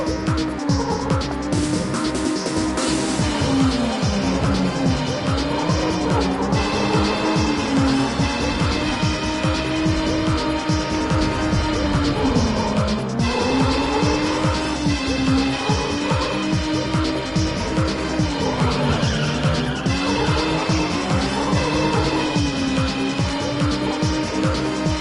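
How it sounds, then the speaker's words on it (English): A car drifts in the Ridge Racer Type 4 video game, with a continuous loud engine drone and wavering tire squeal over busy game music throughout. "So let's go ahead and do some drifting over here."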